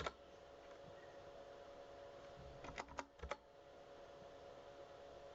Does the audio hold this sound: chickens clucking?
no